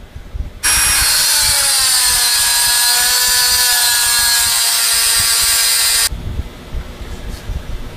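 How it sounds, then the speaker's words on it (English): Dremel cutting wheel slicing through the steel outer race of a bearing while rebuilding a Bosch alternator, a loud steady high-pitched grinding whine holding for about five seconds, then stopping abruptly into quiet room noise. "We're going to use the Dremel wheel to cut along that line."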